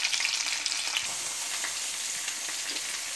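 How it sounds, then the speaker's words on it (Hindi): Cauliflower florets fry in oil in a kadhai over a medium flame, giving a steady, close sizzle and bubbling hiss that holds unbroken throughout, with no talk. "तो देखिए कितने अच्छे से मेरा फ्राई हो चुका है गोभी"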